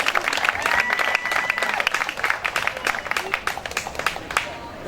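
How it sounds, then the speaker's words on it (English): A crowd at an outdoor clean water rally in Fort Myers, Florida breaks into dense, sustained clapping that fills the moment, then thins into scattered, looser claps toward the end. "I'd like to go ahead and have you guys give yourselves a round of applause for being here"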